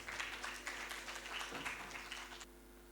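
Applause from the audience at an Urdu poetry and literary gathering, steady clapping held at moderate distance for a couple of seconds before tapering off.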